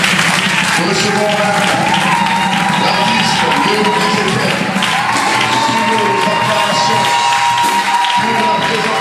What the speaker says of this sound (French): je vous prie d'ovationner très fort sous nos acclamations